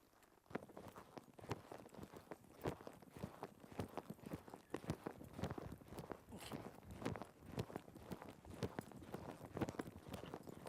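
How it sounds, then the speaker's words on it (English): A horse being moved around during a horsemanship session, its hooves clip-clopping in an irregular walking rhythm close by, with faint background noise and no clear talk. "Now that I simply asked Lisa to just move this horse around"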